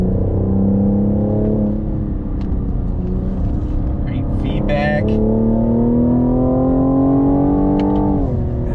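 A 2021 Cadillac CT5-V sport sedan revs hard under throttle, its engine note climbing and dropping through quick upshifts, loud and close from inside the car, with someone talking over it.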